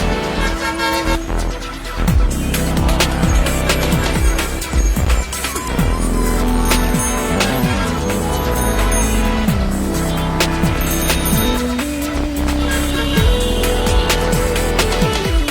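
Traffic sound effect on a Kenyan radio show: loud, busy street noise with repeated car horns honking and tooting, engines revving and passing, and occasional tire squeals, all dense and continuous.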